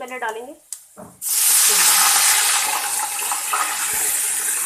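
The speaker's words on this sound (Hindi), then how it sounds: "अब मैं इसमें डालूंगी थोड़ा सा पानी" Water poured into hot cumin-flavoured oil while cooking jeera rice bursts into a loud, sustained sizzle and hiss that holds steady after a brief spoken moment at the start.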